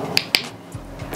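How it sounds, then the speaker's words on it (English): A screw cap on a bottle of Australian Nebbiolo wine twists open with two sharp, close clicks of the seal breaking, followed by faint handling noise, with no talking. "Screw cap."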